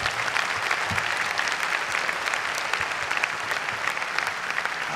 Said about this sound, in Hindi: आपको कैसा लगा आप अपनी तालियों से मुझे बता सकते हैं।